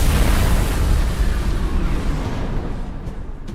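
Deep, rumbling blast from an explosion in a video game, loud at the start and slowly decaying into a long low roar that fades over several seconds with no talking.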